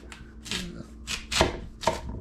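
A sharp chef's knife cuts through an unpeeled sweet potato on a cutting board, several crisp chopping strokes landing in an uneven rhythm, close and loud, with no speech.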